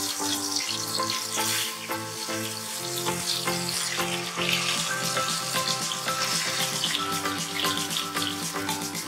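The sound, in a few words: eggplant slices frying in oil on low flame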